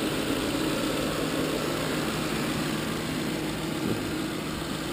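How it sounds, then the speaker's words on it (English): A police car engine idles steadily with a constant, even rumble, moderately loud, with no talking. "The engine is running."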